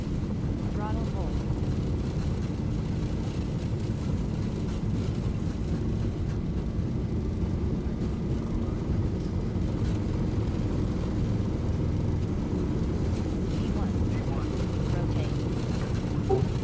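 Boeing 737 jet engines at takeoff thrust in a flight simulator roar as a steady, broad, even rumble that holds level throughout, with voices talking over it.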